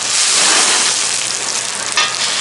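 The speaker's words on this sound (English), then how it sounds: "So we're just caramelizing the peppers, onions, and those are looking pretty good." Loud, steady sizzling of peppers and onions caramelizing on a cast iron griddle, a dense crackling hiss with faint stirring scrapes, close and continuous.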